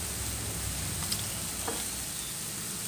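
Water spinach stir-fried in a hot pan, home-style Thai cooking, gives a steady, close sizzle with a couple of faint clinks from stirring, and no one speaks.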